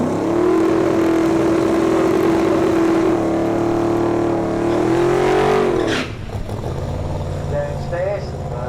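Willys Coupe drag car accelerating hard down a drag strip at Melbourne Raceway in York, a loud sustained engine drone that rises in pitch for about six seconds before dropping away, with announcer talk over it.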